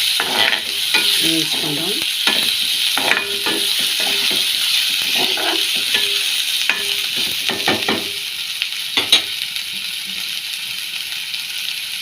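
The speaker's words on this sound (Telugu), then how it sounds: "ఉల్లిపాయ ముక్కలు వేగినాయండి." Onion pieces and green chili fry in a pan for a mutton gravy curry, a steady bright sizzle with repeated scraping stirs and a few clinks, close and loud, with a brief spoken word.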